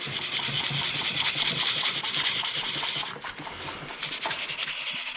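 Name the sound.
sanding back side of rotor with sandpaper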